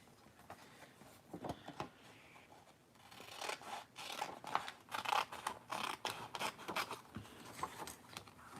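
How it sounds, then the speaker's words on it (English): Scissors snip through a brown paper bag in a series of close, crisp cuts and rustling scrapes, sparse at first then denser and quicker. "I am going to cut out right here."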